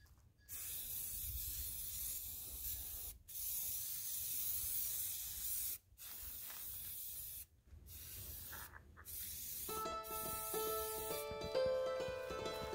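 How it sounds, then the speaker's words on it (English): White spray paint hisses from an aerosol can in several long, steady bursts separated by brief pauses, close and continuous, with a faint musical tone entering near the end. "I'm going to add a few coats of white spray paint"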